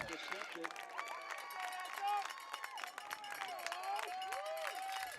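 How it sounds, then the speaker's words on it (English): Franklin fans in the stands cheer after an interception at a varsity high school football game against Attleboro, a sustained crowd roar with scattered clapping running under a commentator's voice. "you may be able to hear the Franklin faithful cheering on that play"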